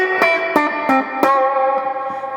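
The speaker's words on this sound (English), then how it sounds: "it's not a real spring reverb, but it is modulating one for sure" Guitar notes plucked one after another through a Boss Katana MK II 50-watt amp's modelled spring reverb, each trailing into a shimmering, metallic wash that lingers and blends between strikes.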